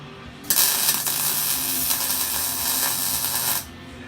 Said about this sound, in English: Making sure to move a clamp to each one so each one's pulled tight.